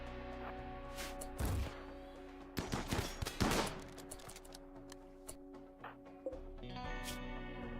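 Gunfire in the RimWorld video game: scattered sharp shots and short bursts, fairly faint, some crackling in quick clusters, over a low continuous hum, with no talking.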